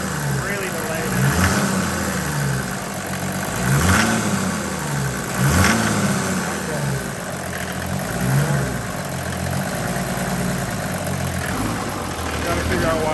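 An OM606 diesel engine swapped into a wagon runs steadily. It swells in several slow, mild revs as the throttle is opened slightly, with a close, rough clatter and someone talking over it.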